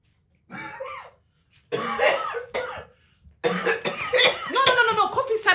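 A person coughs in a few short, harsh bursts, close and fairly loud. The coughs run into throat clearing and are mixed with agitated speech from nearby voices.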